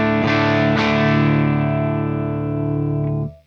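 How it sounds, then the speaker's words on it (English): Clean electric guitar signal played without effects through a setup featuring a Diezel VH4 pedal, a few strummed chords ringing loud and sustained before cutting off sharply. "So this is the clean signal."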